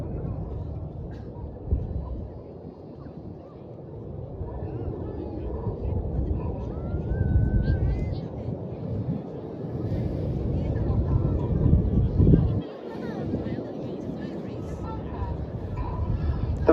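Red Arrows jets fly a display at the Cosford airshow, a distant, swelling jet roar that rises and falls beneath an announcer's voice.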